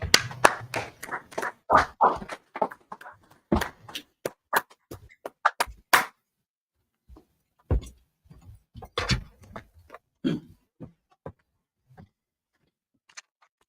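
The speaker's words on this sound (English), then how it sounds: "Clap it up." Clapping from an audience at a gathering on West 125th Street in New York, a burst of claps over the first six seconds, then scattered sharp claps and a few voices that thin out toward the end.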